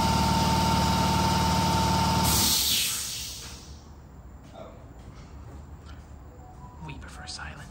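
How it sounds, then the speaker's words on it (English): A garage air compressor runs with a loud, steady mechanical drone, then cuts off about a third of the way in. After that comes a much quieter room with scattered small clatter and voices. "The air compressor."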